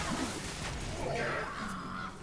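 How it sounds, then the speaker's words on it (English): Crows cawing in the video game MediEvil, a few harsh calls over a faint, muffled game soundscape. "take out these crows"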